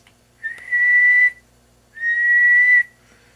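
Two sustained, steady whistled notes from a person whistling into a microphone through a Maco 75 guitar amplifier, each lasting about a second with a short gap between, close and clear against near silence.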